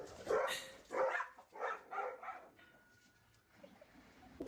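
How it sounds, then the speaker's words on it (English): Dogs at a dog sport event bark in a quick series of sharp, mid-distance yaps, a few bursts in a row that fade into faint whimpering and yips. "This is the most intense dog sport I've heard"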